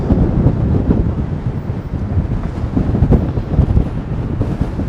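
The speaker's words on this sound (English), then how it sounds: "I've not felt wind like this in a while." Strong outdoor wind buffets the microphone on a downtown Toronto street, a loud, continuous low rumble with gusty surges and no voices.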